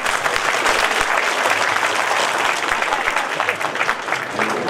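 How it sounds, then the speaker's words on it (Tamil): Dense, sustained applause from an audience at a Tamil-language natural farming lecture, a steady wash of many hands clapping at close range with no gaps. "இவ்வளோ கைத்தட்டல் எதுக்கு?"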